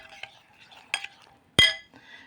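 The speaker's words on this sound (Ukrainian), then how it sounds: "Тепер доливаємо сюди водичку, все ретельно перемішуємо" A spoon stirs mushrooms and added water in a metal pot, giving light scraping swishes and a few sharp clinks against the side, one notably loud knock, close and alone.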